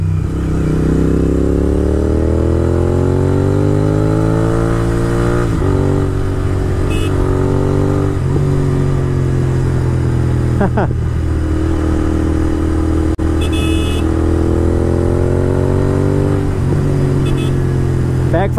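Royal Enfield Bullet motorcycle engine running loud and continuous while riding on a road, with a steady thumping idle-to-rev drone and a few sharp popping backfire cracks breaking through.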